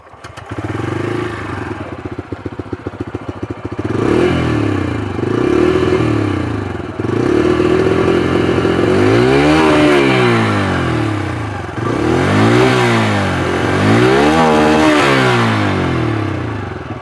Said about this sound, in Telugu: ఇప్పుడు ఈ వెహికల్కి సంబంధించిన ఎగ్జాస్ట్ సౌండ్ అయితే విందాం.